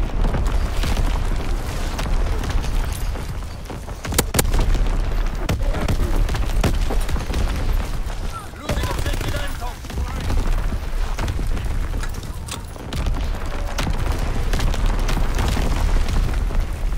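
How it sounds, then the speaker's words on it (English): Artillery battery shelling in a Call of Duty WWII battle, a dense, continuous roar of booming explosions and bursts with sharper blasts near the start, under radio-style voices calling out orders. "Firing primary battery."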